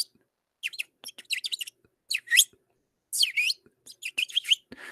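Several birds chirp in quick, bright bursts of short tweets and trills, clustered in groups with brief silent gaps, fairly close and clear.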